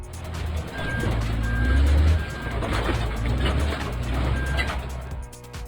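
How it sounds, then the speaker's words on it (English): Bulldozer engine rumbling heavily while a reversing alarm beeps in regular evenly spaced pulses, with a hiss of air brakes mixed in. "Bulldozer."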